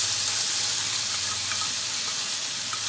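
Tomato sauce going into a hot, sizzling pan while cooking soybean kofta curry, giving a steady, close frying hiss throughout with faint stirring clicks.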